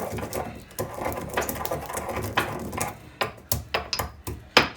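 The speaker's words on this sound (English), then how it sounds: "I've got some cloves, some allspice, and a bit of some very coarse pink salt, which will actually help in grinding." Cloves, allspice and very coarse pink salt are ground together for vegan pumpkin muffins, giving an irregular run of close, gritty crunching and tapping with sharp little clicks throughout.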